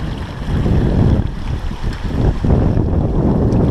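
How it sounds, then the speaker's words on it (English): A sailboat under way offshore, steered by a Sailomat wind vane, moving through waves with a constant rush of water and strong wind buffeting close by, loud and steady throughout with no talking. "we're sailing through waves"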